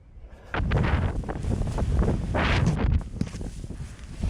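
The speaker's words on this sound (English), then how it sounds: "See, there's a gust now" Strong gust of wind in a Greenland winter storm roars and buffets against the microphone in surging waves, loud and close, then eases slightly toward the end.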